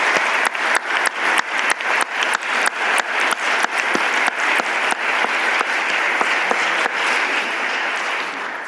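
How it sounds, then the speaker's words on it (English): Audience applause at a university law school event, starting as distinct sharp claps and swelling into a full, sustained round from a room of people that tapers slightly at the end. "So can we please give a big round of applause to Professor Paulson?"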